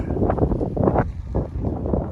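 Strong wind buffets the microphone in steady, roaring gusts, loud and close, with a low rumble throughout.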